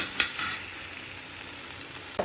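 Onion and tomato sizzle in a pan for pasta, a steady, moderately loud hiss with a couple of quick stirring clacks near the start and end.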